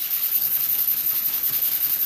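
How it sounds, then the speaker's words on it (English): Fine 220-grit sandpaper is rubbed by hand over the top of a metal paint can lid, a soft rhythmic scratching hiss repeating in quick even strokes, close up. "take some sandpaper. This is just 220, and do a little sanding"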